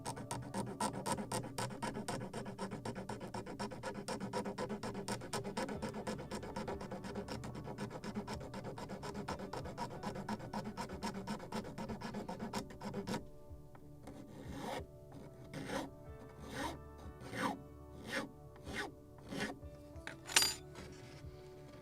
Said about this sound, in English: more to cut, more to sand.